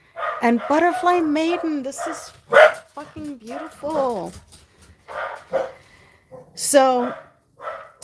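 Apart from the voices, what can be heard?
dogs barking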